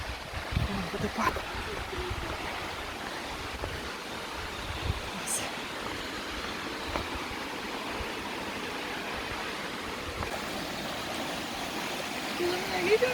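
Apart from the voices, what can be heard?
Klokovsky waterfall on Sakhalin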